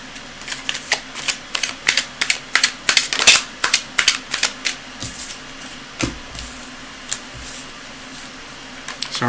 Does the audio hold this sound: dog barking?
no